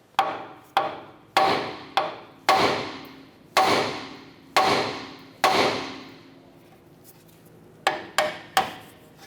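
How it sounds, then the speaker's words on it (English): A hammer strikes the steering knuckle of a 2008-2012 Honda Accord to free the tie rod, about a dozen sharp metallic blows with ringing decay, irregularly spaced and close, with a short pause before a final quick cluster. "Now I'm going to go ahead and use a hammer. We're going to strike the knuckle here to go ahead and release our tie rod."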